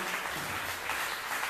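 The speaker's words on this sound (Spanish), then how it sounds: "dale una aplauso" A church congregation applauds during a sermon, giving a brief, dense wash of clapping from many hands that holds steady and fairly distant throughout.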